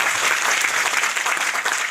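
A seminar audience bursts into loud, dense applause, a continuous roar of many hands clapping close by without a break.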